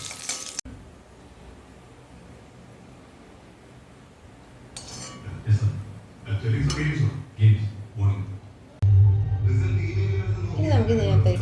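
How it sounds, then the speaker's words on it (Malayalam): Cashews roast in a spoonful of ghee in a pan for a sweet adapradhaman dessert: a quiet start gives way to sizzling bursts and clinking, scraping stirs of a spoon, with people talking over the later part. "നമുക്ക് കാഷ്യൂ ഒന്ന് വറുത്തെടുക്കാം."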